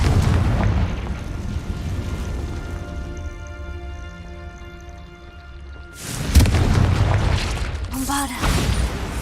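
Fiery Confringo spell blasts from Hogwarts Legacy burst out loud and close, a booming impact followed by a second sharp explosive hit, with sustained game ambience and a voice heard between them.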